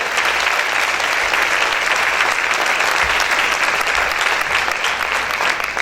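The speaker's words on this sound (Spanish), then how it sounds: "Si ese aplauso es para el Señor, déselo fuerte." Church congregation clapping hard for the Lord, a full, even roar of applause from many hands that holds steady from start to finish with no talking.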